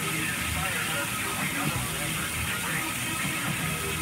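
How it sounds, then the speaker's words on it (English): Flank steak sizzles on its second side in a hot pan, a dense, continuous hiss and crackle of searing that holds steady throughout at moderate loudness. "we're going to sear that side, we're going to lock in the juices and all that."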